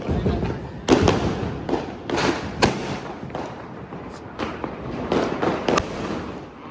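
Diwali firecrackers burst close by in a series of sharp, irregular bangs and thuds, several in quick succession over a crackling background.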